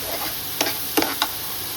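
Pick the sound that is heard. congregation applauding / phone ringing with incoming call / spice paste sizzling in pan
spice paste sizzling in pan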